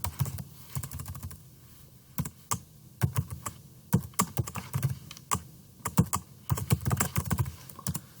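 Computer keyboard typing while setting up a first C++ project in Microsoft Visual Studio, with quick irregular bursts of clicking keys close up, pausing briefly between words, no talking.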